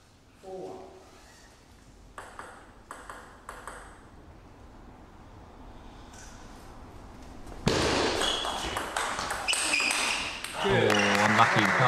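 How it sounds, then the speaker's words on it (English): Home fans at a British Premier League table tennis match cheer and roar, building from scattered claps and ball pings into a loud, dense crowd swell near the end, with talk underneath. "Can just hear the crowd there getting into it."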